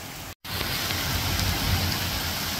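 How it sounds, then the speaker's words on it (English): Dense, constant pattering of large hail chunks striking surfaces outside, a loud unbroken roar of impacts after a brief silent gap at the start. "It just started this crazy hailstorm outside."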